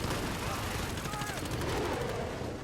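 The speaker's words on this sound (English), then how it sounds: "it takes a second for that minigun to spool up" A Juggernaut's minigun spins up and fires in Call of Duty: Modern Warfare, a dense, continuous rattle of game gunfire under a voice talking over it.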